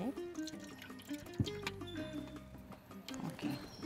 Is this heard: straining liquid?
yes